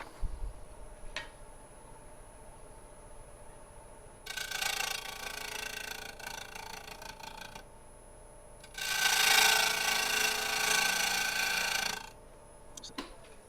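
A wood lathe spins a live edge burl at 820 RPM with a faint steady whine, broken by two long, rough cutting bursts several seconds apart.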